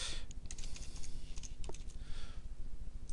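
Steady, close computer keyboard typing as a staff member's name is entered, a fast run of light plastic key clicks with brief pauses, no talking.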